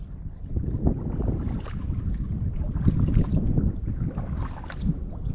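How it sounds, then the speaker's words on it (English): Steady wind buffeting the microphone while kayaking the Murderkill River at Killens Pond, a continuous low roar with gusty swells and faint water sounds, no talk. "we're starting to catch some wind"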